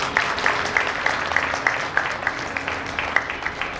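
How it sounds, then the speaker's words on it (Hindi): Applause from an audience at a devotional Sai bhajan concert: a thin, moderately loud patter of hand claps with regular sharp accents, and no voices over it. "आप लोग इनकी कला की कदरदानी करेंगे, इनके लिए तालियां बजाकर"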